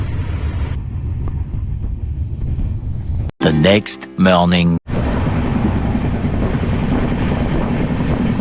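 Padatik Express passenger train between Sealdah and New Jalpaiguri rolls along, heard from inside as a steady low rumble and rattle, with a voice speaking briefly over it midway.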